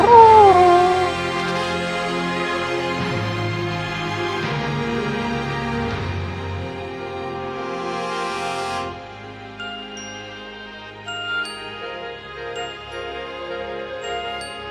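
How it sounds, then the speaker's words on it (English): Bright, ringing orchestral chimes sound over a rich ensemble in a live performance at the Royal Albert Hall, with sustained tones fading and sparse high struck notes continuing near the end. "Chimes."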